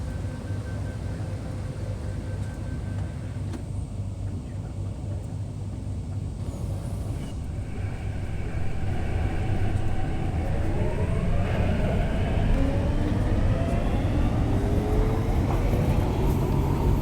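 An MTR C-Train running from Choi Hung toward Central gives a constant loud interior rumble that swells as the train gathers speed, with rising motor whine and rail noise throughout.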